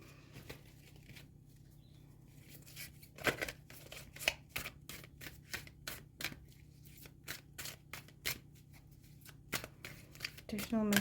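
Oracle cards are shuffled by hand in quick repeated riffles and flicks, a crisp rhythmic papery clatter that starts sparse and grows busier, with a voice talking faintly at times.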